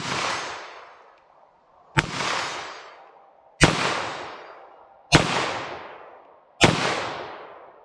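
Five sharp .22 LR rifle shots with CCI Velocitor ammunition, spaced about one and a half seconds apart, each a loud crack followed by a long rolling outdoor echo that fades before the next.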